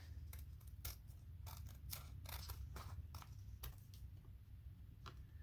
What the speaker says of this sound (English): These are my paper scissors, and I think they work okay.